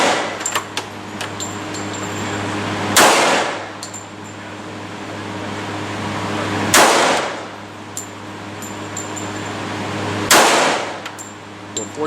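Three loud, sharp shots from a .45 handgun ring out at a shooting range, evenly spaced about three and a half seconds apart, each a sudden crack with a short echoing tail over a low steady hum.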